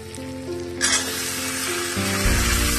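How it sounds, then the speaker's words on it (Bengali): Ridge gourd and potato pieces hit hot oil with ginger and set off a loud, steady sizzle, with scraping stirring toward the end and nobody speaking. "ওই জন্য আমি একসাথে দিয়েই একটু ভেজে নেব"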